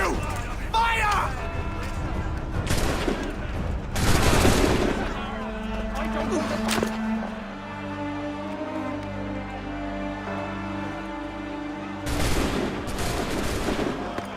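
Gunfire from the Assassin's Creed III video game crackles in rapid volleys and bursts, loud and close, with shouting voices and battle noise mixed in and a lull before another round.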